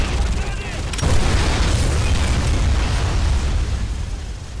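A C4 charge explodes on an enemy gun in the Call of Duty: Modern Warfare game, a loud booming blast that hits about a second in and rumbles on heavily, with voices heard in the mix.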